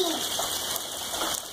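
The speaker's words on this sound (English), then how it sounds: "Look, I see some hail." Hail and rain come down in a dense steady hiss of drops striking surfaces nearby, with a faint bird-like chirp partly masked beneath it.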